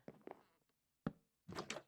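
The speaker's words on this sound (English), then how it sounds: "place a door" A door being placed in the video game Minecraft, a quick series of soft wooden thunks and clicks, followed by a sharper knock and a fuller double clunk, all close and clear with no talking.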